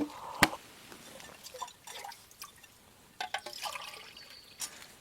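Water trickles and drips irregularly into a container at a stream or tap during a trek, with faint splashes and small clinks of a metal mug, close and quiet.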